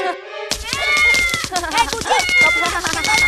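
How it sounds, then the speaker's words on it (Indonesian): A cat meows repeatedly and loudly in drawn-out, wavering cries, close by, with a person's voice mixed in. "Ada kucing."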